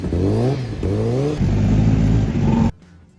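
A Honda CBR1000RR-R SP race bike engine revs hard twice in quick rising sweeps, then holds a loud steady high idle before cutting off abruptly into quiet.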